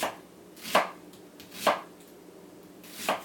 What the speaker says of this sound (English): And we'll chop that up.